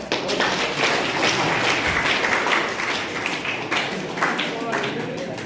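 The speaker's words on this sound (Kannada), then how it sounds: "ಸರ್ ಜೋರ ಚಪ್ಪಾಳೆ." Loud applause from an audience at a Kannada comedy show, dense continuous clapping that holds steady for several seconds with voices mixed in.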